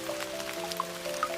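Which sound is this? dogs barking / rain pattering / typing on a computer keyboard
rain pattering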